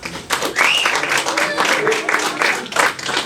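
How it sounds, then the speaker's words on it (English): Comedy club audience clapping and cheering in a brief burst of applause, mixed with crowd voices and loud throughout. "Round of applause."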